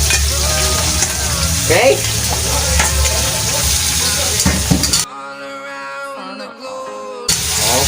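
Squid stir-frying for adobo, a loud continuous sizzle with stirring scrapes and utensil clatter against the pan, briefly cutting out before resuming, with a voice speaking briefly.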